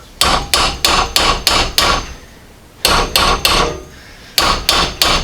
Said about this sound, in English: I'm just going to take my hammer and tap it down here.